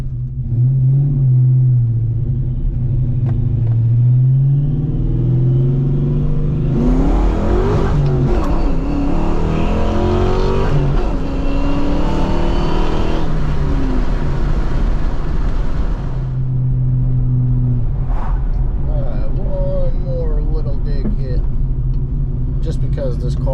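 A 1994-95 Ford SVT Cobra Mustang accelerating hard, its engine rising into a loud, dense roar for several seconds before settling back to a steady rumble, heard from inside the car with a voice talking over it.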